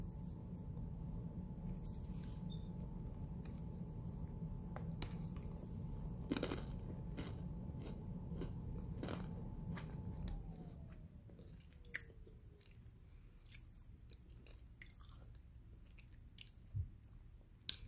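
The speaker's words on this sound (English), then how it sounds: "I'm going to try this cookie, and this is birthday cake." Chewing on a birthday cake flavoured cookie, soft close-up crunches and munching over a quiet background hum, with scattered clicks and smacks as the bites continue.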